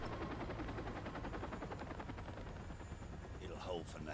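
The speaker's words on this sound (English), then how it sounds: "There's a helicopter there." A helicopter in Call of Duty MW2 Remastered gives a fast, continuous rotor chop beneath rattling bursts of gunfire, with a sharper swelling whoosh near the end.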